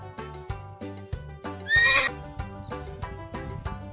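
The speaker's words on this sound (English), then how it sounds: "Horses." Horse neighs once in a loud whinny midway through, over a bouncy children's music track with a steady beat.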